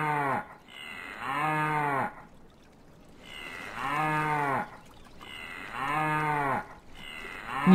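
Cow mooing in the puzzle game Rusty Lake Paradise: three long, loud, low moos in a steady rhythm, each separated by a brief quiet gap, with no talking.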